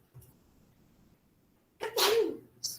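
A single loud sneeze bursts out near the end of a quiet indoor classroom-style math lesson, preceded by faint background hum and followed by a brief breathy sound.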